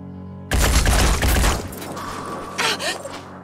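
Gunfire in the turn-based strategy game Phoenix Point, a loud rapid burst of automatic shots that ends abruptly, followed by a short mechanical clatter and a second, fainter rattle.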